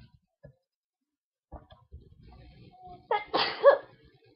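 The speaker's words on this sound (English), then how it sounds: "I'm about to sneeze." A single sharp sneeze bursts out after a few seconds of quiet with small rustling and clicking noises.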